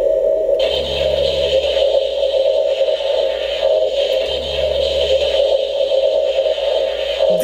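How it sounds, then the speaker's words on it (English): Electronic proton-stream firing effect from a Ghostbusters Afterlife Spengler's Neutrona Wand Plasma Series toy, a loud steady buzzing drone with a higher whine layered on top and pulsing low-end throbs, played alone. "Finally, to fire the proton stream, hit the intensify button."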